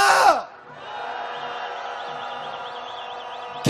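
A large protest crowd at a candlelight march demanding a president's resignation lets out a brief loud collective shout, then a sustained wavering roar and tonal whoops fill the rest, ending with another burst.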